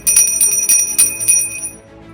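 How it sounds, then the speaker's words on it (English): Bells ring out in a community peal marking the 75th anniversary of VE Day, several bright overlapping strikes in quick succession that sustain and fade over about two seconds. "Bells that were silenced for years during World War II finally rang again."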